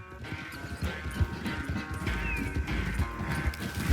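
Horse hooves clatter in a steady galloping rhythm in the game Red Dead Redemption 2, close and continuous, with game ambience and scattered clatter around them and no talking.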